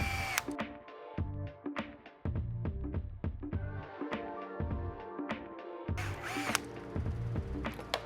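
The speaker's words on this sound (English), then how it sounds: "Then just run the rest of the screws all the way in." A small power driver runs screws into a Pro-Line Promoto-MX RC motorcycle wheel sleeve, giving repeated short whirring bursts with clicks and clatter of parts, close up and without talk.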